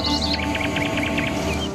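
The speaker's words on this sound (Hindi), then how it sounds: "घने दरख्तों के बीच परिंदों की चहचहाहट" Bright, quick bird chirps repeat in a rapid run over a steady low background hum, fairly close and clear, among dense trees in the hills of Murree.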